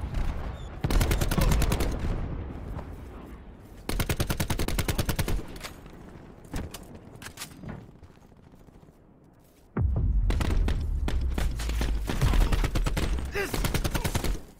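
Video game gunfire in loud rapid automatic bursts separated by quieter gaps, with a few single shots and faint background sound between volleys.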